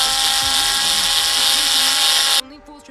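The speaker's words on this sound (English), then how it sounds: "So just to get them quickly snug, I'm gonna use my gentle electric screwdriver." An electric screwdriver snugs bolts on a Suzuki RF 1100 motorcycle, giving a steady whirring drone that runs close and loud, then cuts off abruptly near the end, with a voice talking over it.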